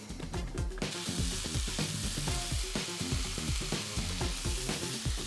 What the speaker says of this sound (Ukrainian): Ставимо сюди чесник та всі овочі.